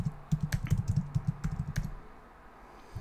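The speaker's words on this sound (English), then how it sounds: "you want to type in Google Amazon affiliate program" Rapid keystrokes clatter on a computer keyboard at close range, a dense burst of taps for about two seconds that thins to a few scattered clicks over a quiet background.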